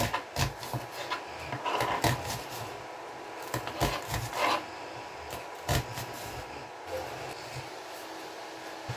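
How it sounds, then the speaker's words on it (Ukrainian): An onion is sliced with a knife on a wooden cutting board in a home kitchen, giving a steady run of quiet, close, irregular chopping taps with no talking. "Можна цибульку різати не дуже міленько."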